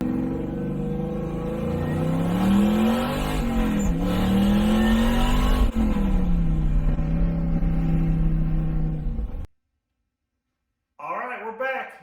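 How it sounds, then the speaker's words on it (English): A 1967 Chevy Nova with an LSX engine runs loud and close, its pitch rising and falling as it revs, then cuts to silence before a brief voice. "We're going to fire the car up, maybe tool it around a little bit and see if everything is working properly."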